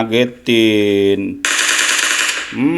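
Gunfire from the mobile game PUBG Mobile, played on a Xiaomi CC9 Pro phone, comes as a loud sustained burst of rapid shots, overlapping tonal game sounds and a voice.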